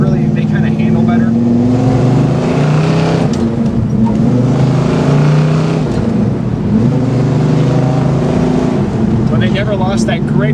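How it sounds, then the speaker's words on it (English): A 1968 Pontiac GTO H.O. hardtop engine idles and revs with a deep, throaty exhaust rumble, rising and falling close by, with a voice talking briefly underneath. "that insane sound that you get from this beautiful exhaust system"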